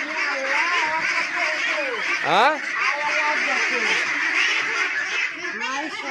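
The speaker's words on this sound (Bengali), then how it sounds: "হাঁস অনেক চিল্লাচিল্লি করছে না?" Ducks on a duck farm quack in a noisy, overlapping chorus that carries on throughout, with one loud honking call near the middle, while people talk over the flock.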